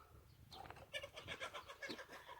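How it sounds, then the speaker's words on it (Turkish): Chickens and chicks clucking and chirping in a loose, overlapping chorus at moderate distance in a garden, with scattered higher chick peeps, some birds fighting. "Gördüğünüz gibi tavukları ve civcivleri çıkarttım. Onlar yayılıyor. Hatta kavga da ediyorlar şu anda."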